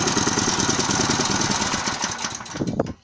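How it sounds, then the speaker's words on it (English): The engine of a mobile welding machine runs loud and close with a steady mechanical chug, then its tone shifts and surges in the final second as the speed is raised. "I will increase the speed of the machine now to produce the optimum power."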